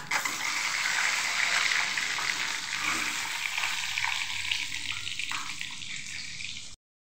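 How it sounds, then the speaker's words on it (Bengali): Duck eggs frying in mustard oil with a little turmeric, a steady broadband sizzle and hiss running nearly seven seconds at close range, fairly even in level with no talk over it. "তেল দিয়ে সামান্য হলুদ দিয়ে ডিম হালকা করে ভেজে নেব।"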